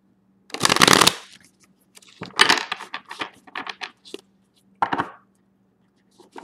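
Large tarot cards are shuffled up close: a loud riffle burst followed by a series of lighter taps and flicks as the deck is squared and cut, with pauses between.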